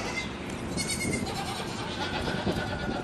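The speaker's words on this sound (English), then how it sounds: "here's a clip of some baby goats" Baby goats bleat in a soft, busy chorus of short overlapping cries against a constant low background hiss, fairly quiet throughout.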